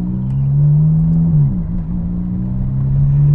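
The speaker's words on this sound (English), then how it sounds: "This is the 430 Scuderia, otherwise known as a Scud." Ferrari 430 Scuderia engine holding a loud, steady, droning roar that dips briefly in pitch midway and then settles back to a constant close-up note, with no talking.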